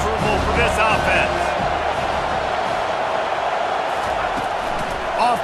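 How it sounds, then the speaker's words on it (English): Stadium crowd roar in a College Football 25 game, a steady loud wash of cheering and noise filling the whole stretch, with a commentator's voice running over it. "This crowd trying to make life miserable for this offense."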